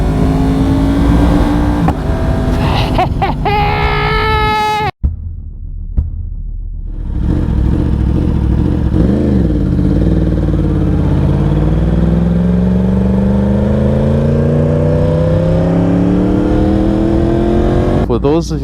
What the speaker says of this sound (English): Listen to that quick shifter.